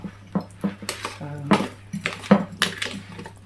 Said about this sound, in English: And then I'm going to transfer it to my cosy dish.